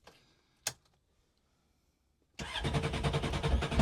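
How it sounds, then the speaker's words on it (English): A 2008 Yamaha AR/SX 230 jet boat engine cranks and catches after a quiet pause and a single click, then settles into a loud, steady, close-up idle rumble. "let's go ahead and start the engine."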